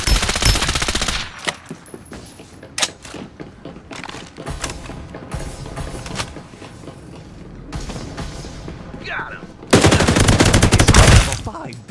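Gunfire in the Farlight 84 battle royale game arrives as loud, close bursts of rapid automatic fire, broken by short pauses, with a dense sustained volley near the end.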